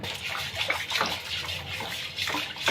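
Water splashes and runs steadily over a large pumpkin being washed by hand, a close, continuous sloshing with brief louder gushes.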